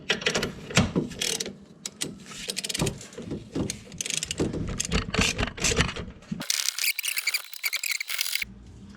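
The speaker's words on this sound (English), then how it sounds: "I'm going to get my 18mm ratchet again. And I'm going to begin to tighten." An 18mm ratchet tightens strut bolts on a 2007-2014 Chevy Suburban in a home garage, with dense close ratcheting clicks and metallic clanks in bursts and a brief hissy stretch near the end.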